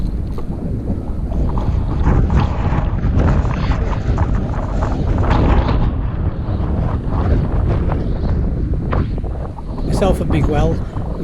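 Heavy wind buffets the microphone in a constant loud rumble on a stormy day of fly fishing for trout, with a voice talking beneath the roar.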